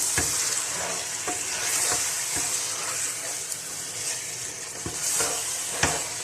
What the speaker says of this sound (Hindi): अब मैं इसके अंदर जो फिश मैरिनेट करके रखी थी वो डाल दूंगी। मिक्स करेंगे इसको।